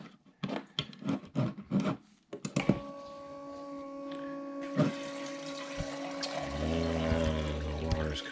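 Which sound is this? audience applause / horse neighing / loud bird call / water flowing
water flowing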